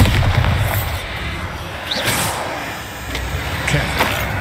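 Bombarda blasting-spell explosions in the video game Hogwarts Legacy: heavy, booming blasts over a continuous rumbling wash of noise, with a couple of sharper pops standing out.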